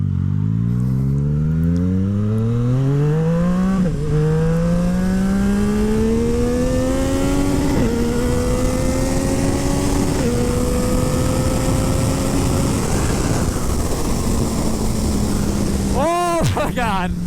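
Yamaha MT-09 motorcycle with a full Akrapovic exhaust accelerating hard through several gears, loud and close, engine note climbing and dropping at each shift over steady wind roar.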